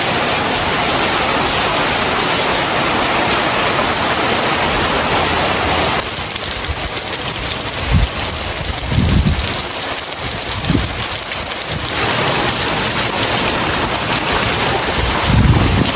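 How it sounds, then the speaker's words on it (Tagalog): Heavy, unceasing rain pours down outdoors, a loud, dense hiss that stays constant throughout, with a few low thumps and knocks mixed in. "Kanina pang umaga ay walang tigil po ang ulan."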